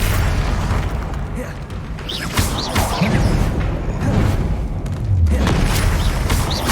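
Spell blasts from the Confringo curse in the Hogwarts Legacy video game, a run of booming explosive bursts and crackling impacts layered over dense combat noise, fairly loud and continuous with sharper hits every few seconds.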